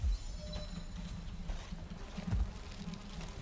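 Swarming bees buzz in Valheim as they fend off a raid, a continuous droning hum with low thumps and muffled footfalls mixed in, moderately loud and without speech.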